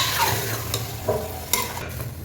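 Pre-boiled mutton tossed into a hot pan sizzles and fries steadily while a utensil scrapes and stirs it in several distinct strokes, loud and close.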